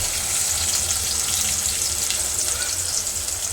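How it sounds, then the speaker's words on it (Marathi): Steady, close sizzling of onion frying in hot tempering oil for misal, a continuous crackling hiss with no talk over it. "तापलं किंवा फोडणी तडतडली की मग हे टाकायचा, कांदा टाकायचा."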